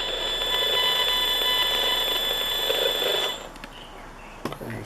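A handheld RF detector sounds a steady high electronic whine with harmonic tones while a passing car transmits a radio signal, then cuts out abruptly after about three seconds, leaving faint background noise and a couple of soft clicks.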